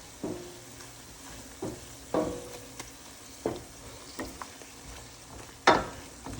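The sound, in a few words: stirring onions into a blended mixture in a pan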